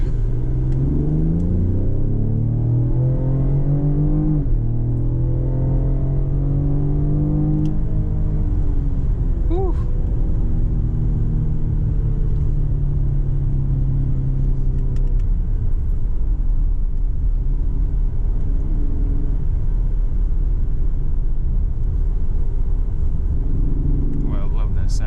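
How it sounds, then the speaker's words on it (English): A deep engine rumble from a 2020 Ford Explorer ST, V8-like, rises and falls as it revs, steady and close, with a voice talking over it. "Sounds like a V8."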